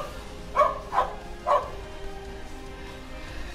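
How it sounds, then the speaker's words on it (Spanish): Dogs barking in the distance, three short barks in a quick uneven sequence, then quiet background hum, with no talking. "empiezan a ladrar los perros otra vez"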